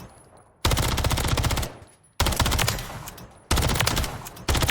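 Automatic weapon fire at firing range dummies in Call of Duty MW3, three loud sustained bursts with short silent gaps between them, rapid and close, no talking.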